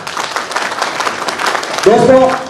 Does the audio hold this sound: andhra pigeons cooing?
no